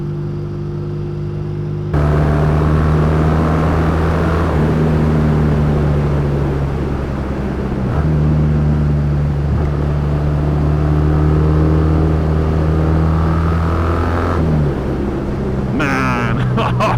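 A Triumph T140V motorcycle engine drones steadily while riding, its low, even exhaust tone shifting as the rider changes gears, with wind noise around it and a rider talking at times.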